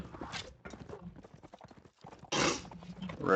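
Horse hooves clip-clop in a medieval battle video game tournament match, a rapid galloping clatter heard under excited commentary from a caster, with a louder burst of combat noise near the end.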